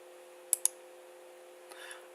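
Two crisp mouse clicks in quick succession while drawing a centre line in CAD software, near and alone over a steady low electrical hum, followed by a fainter click and a soft rustle.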